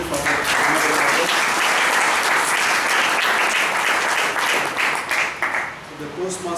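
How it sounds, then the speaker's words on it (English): Audience applause at a Toastmasters club meeting rises into a dense, sustained wash of clapping from a room of people, then thins and tapers unevenly near the end. "let's give a round of applause to the President for that"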